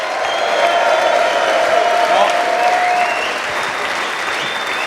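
A crowd applauds both teams at the Mosconi Cup pool event between Team Europe and Team America, a dense steady roar of clapping from a large hall, with a voice briefly over it.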